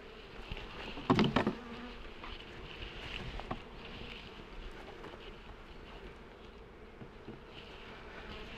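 Honey bees drone in a steady, close buzzing around an open beehive during a colony inspection, with a brief louder burst near the start as a bee passes by.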